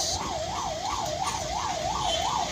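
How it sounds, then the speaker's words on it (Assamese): A 108 ambulance siren on a one-way road in Dibrugarh, a loud wailing siren rising and falling steadily about every third of a second over road traffic noise. "এম্বুলেঞ্চ।"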